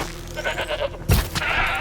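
A goat bleats in the Horizon Zero Dawn video game, a loud, brief call amid the game's ambient soundscape.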